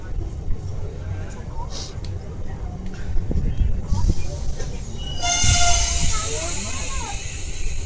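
A train passing on the line near Visakhapatnam, a camping coach for track maintenance staff, makes a loud, close rumble of wheels on rails, then a rising hiss and squeal as it goes by, with talking over it.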